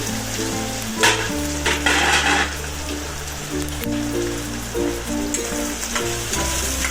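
Potatoes tipped into a sizzling cumin and curry leaf tempering for farali potato khichdi, a loud crackling sizzle with bursts of spattering and stirring, close up, with no talking.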